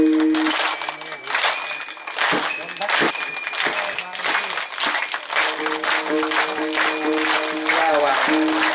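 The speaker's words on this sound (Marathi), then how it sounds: "आता टाळ्या झाल्या." Audience clapping during a Marathi devotional kirtan, a dense, continuous rhythmic patter of many hands mixed with bright ringing metallic chimes and voices throughout.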